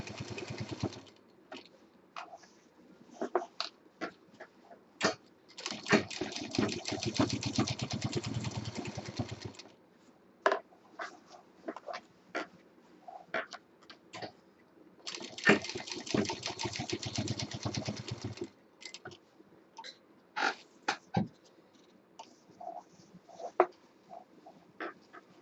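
A sewing machine stitches a heart-shaped party bag, running in two sustained whirring bursts of several seconds, separated by quieter stretches of scattered clicks and handling of the fabric.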